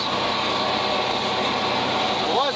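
A tractor engine runs steadily while mowing hay in a field, a loud constant mechanical drone with a faint rising whine near the end and someone talking over it.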